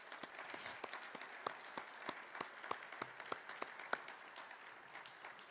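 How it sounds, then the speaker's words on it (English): Sparse, faint clapping from a small group at Cleveland State's introduction of a new men's basketball head coach, individual claps distinct and uneven, somewhat distant in the room. "So please give this young man and the staff that's still here a round of applause,"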